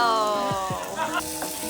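Okonomiyaki and meat sizzle on a tabletop griddle at a Tokyo restaurant, a steady close hiss mixed with faint tonal background sound.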